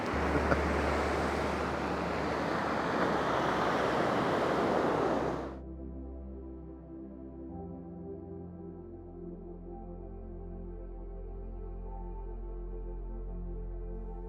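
Incoming tide waves roar and wash against the Aberdeenshire coast in a loud, dense rush for about five seconds. The surf then cuts off abruptly to a quieter, steady tonal hum.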